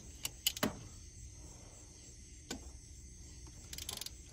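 A ratchet and socket work a coolant temperature sensor on a 1987–91 Ford truck, giving a few short, close bursts of mechanical clicking separated by quiet pauses.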